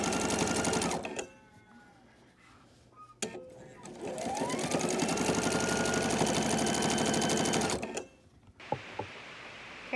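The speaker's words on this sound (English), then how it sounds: "And then I will just sewing to the end." A sewing machine stitches the seams of a fabric face mask, whirring loudly in long steady runs with a brief pause near the start and a stop at the end, followed by faint handling clicks.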